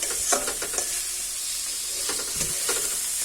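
Food frying in a covered pan gives a steady, close sizzling hiss, with a few soft stirring scrapes and clinks early on and again near the end. No one speaks.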